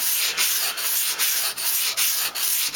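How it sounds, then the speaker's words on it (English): Steady, loud abrasive scraping of a kitchen knife blade on sandpaper under firm pressure, with rhythmic strokes roughly every few tenths of a second, close up. "with the sandpaper, I will be putting decent pressure on it right now"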